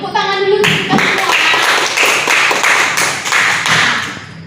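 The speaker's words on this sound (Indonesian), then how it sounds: "Tepuk tangan dulu kita semua." A primary school class in Indonesia claps together in a rhythmic patterned clap, a run of sharp, loud, close hand slaps following a brief voice at the start.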